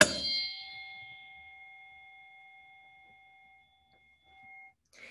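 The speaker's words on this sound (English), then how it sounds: "So here's the low pitch sound." A large tuning fork struck once with a clang, then ringing at a low pitch as a steady pure tone that slowly fades over several seconds, heard alone in a classroom setting.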